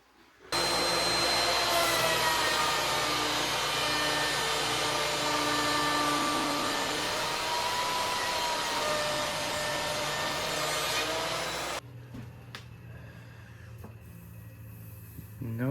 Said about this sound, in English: I know that the helical cutter head can handle it in either direction and won't tear it out.